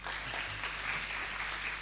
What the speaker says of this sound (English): Ladies and gentlemen, please give a big round of applause